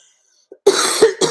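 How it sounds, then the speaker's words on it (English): A single person gives a short, sharp cough followed by two more quick coughs close to the microphone, with near silence before them. "So I'm fixing to cough."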